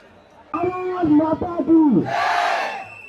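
A large protest crowd gathers at Jantar Mantar in Delhi ahead of a march to Parliament. A voice chants or shouts loudly over the crowd, then a broad, dense roar of many people swells and holds close by.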